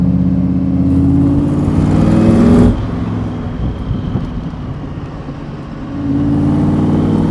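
A Toyota Supra MKV fitted with a supercharger blower, its engine droning loud and close at a steady high idle, then surging higher before dropping back and climbing again near the end. No one speaks.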